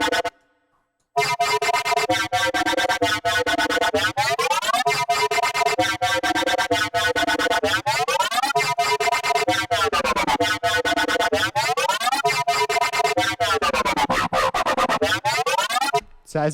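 Metallic synthesized effect built in the Sytrus synth, a steady loud stream of ringing, inharmonic metal tones with repeated sweeping pitch glides, running continuously after a brief silent start with no talking.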